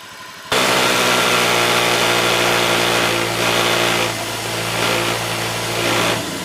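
Motorcycle engine, a Honda Beat FI, starts up and runs fairly loud and close while its battery charges, holding a steady hum with mild rises and dips in throttle, alone without speech.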